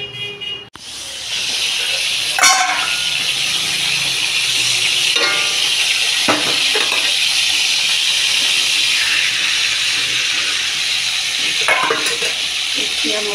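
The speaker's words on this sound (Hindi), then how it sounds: "जैसे हमारा तेल गर्म होगा हम इसमें थोड़ा मेथी दाना डालेंगे।" Fenugreek seeds hitting hot oil in a pan while preparing mixed vegetable bhaji, a loud steady sizzle and hiss that holds throughout, with a few scraping stirs and clinks on top.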